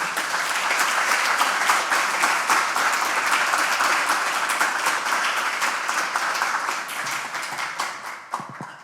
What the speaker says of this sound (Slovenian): pospremimo jo z aplavzom.